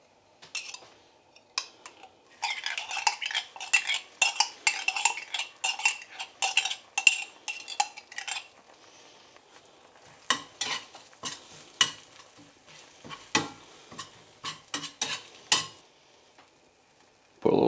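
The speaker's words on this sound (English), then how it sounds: "let's get these in the frying pan and see how they turn out with the scrambled eggs" Stirring scrambled eggs with a utensil in a hot frying pan, quiet scraping and clicking against the pan with a faint sizzle, irregular strokes in bursts, then sparser taps.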